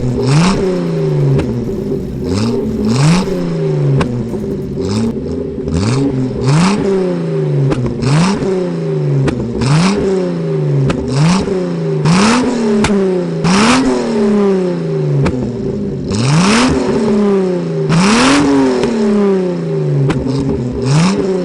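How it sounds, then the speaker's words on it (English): Datsun 280Z engine revved repeatedly through a straight-pipe exhaust with a resonator and no muffler, loud and close, with rhythmic rising blips and crackling pops between revs. "rev it for you guys so you can see what the exhaust sounds like with a resonator but no muffler"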